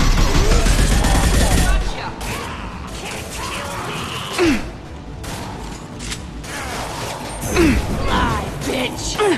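Gunfire from a firefight in Mass Effect 2, a loud burst of shooting at the start giving way to scattered shots, mechanical clanks and impacts, with voices heard in between.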